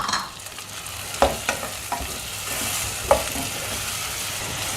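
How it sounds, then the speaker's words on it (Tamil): Onions sautéing in a pan for a vegetarian curry: an even hiss of frying runs throughout, punctuated by several crisp spatula taps and scrapes. "எல்லாம் நல்லா வதக்கிட்டு இருக்கலாம் அது வரைக்கும்."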